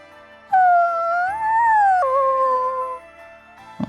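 Puppy whimpering in Bravely Default 2, a few loud, close, drawn-out whining cries with rising and falling pitch, heard alone.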